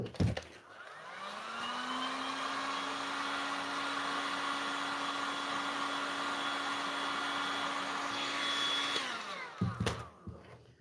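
Handheld dryer blowing steadily on fresh paint on a piece of furniture, a loud continuous whir with a steady motor tone that runs for about eight seconds before cutting off, then brief handling clatter.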